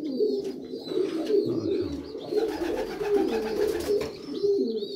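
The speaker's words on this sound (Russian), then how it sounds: "вот тот голубь, который вот ночью садился" A pigeon coos repeatedly and close by after a long flight. The soft throaty calls roll on steadily throughout, with faint higher chirps in the background.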